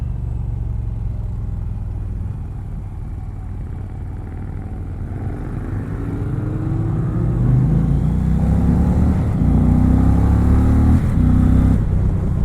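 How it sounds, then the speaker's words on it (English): A 2020 Indian Challenger Dark Horse V-twin motorcycle engine, a deep steady rumble that builds into revving, with rising pitch and loudness toward the end, close and alone. "The engine sound is really, really intoxicating."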